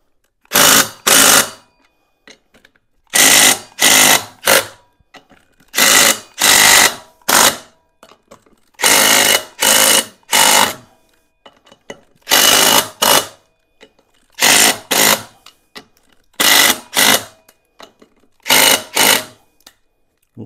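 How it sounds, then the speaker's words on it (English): Rapid ratchet wrench bursts tightening rear sprocket bolts on a Venom Ghost Chopper 250, close and crisp, coming in short clusters of two or three quick runs separated by brief pauses, with no talk. "Now we can finish torquing these down."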